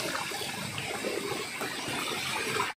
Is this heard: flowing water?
yes